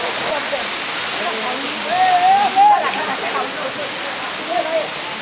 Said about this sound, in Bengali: চট্টগ্রামের ঐতিহ্যবাহী একটা ঝর্ণা, নাপিতা ছড়া ঝর্ণা